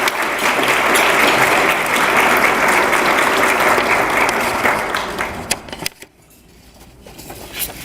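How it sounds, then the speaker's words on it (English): Loud, continuous audience applause at an awards ceremony for a judge, steady for several seconds before thinning into scattered claps and dropping away near the end. "Let's give him a round of applause."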